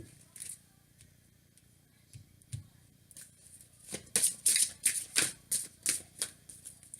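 Tarot cards shuffled and drawn for a Leo reading, soft scattered handling at first, then a quick run of crisp, fairly close flicks and snaps as the deck is riffled, with no clear speech.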